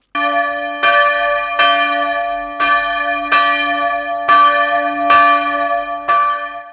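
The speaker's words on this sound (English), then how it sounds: "we get to see and hear the bells from just a few feet away" Large historic English church bells ringing very close and loud, about one strike per second, each clang ringing on into the next, with no voices.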